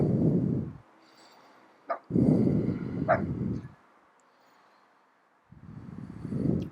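Outdoor dog barking in loud low bursts: a long run of barks, a pause with a couple of short sharp yips, then another burst, and a final volley after several seconds of quiet.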